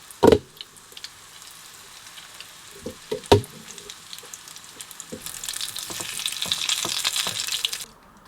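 A breadcrumb-coated tuna cutlet goes into a hot pan with a couple of sharp knocks, then a bright, crackling sizzle builds and stays loud for several seconds before cutting off.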